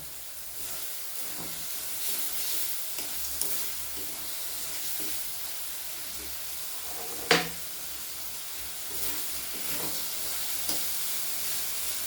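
Marinated broccoli frying in a pan with ginger and green chilli, giving a steady quiet hiss and sizzle throughout, with one sharp clink near the middle and faint stirring.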